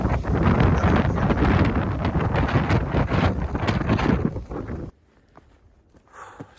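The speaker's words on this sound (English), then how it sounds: "That wind is really gusting today." Gusting wind buffets the microphone on top of Standing Indian Mountain, loud and turbulent for several seconds before dropping abruptly to near silence, with a faint gust returning at the end.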